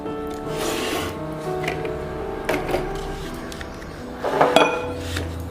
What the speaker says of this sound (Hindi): एक ये कुकर लिया है हमने, कुकर लेकर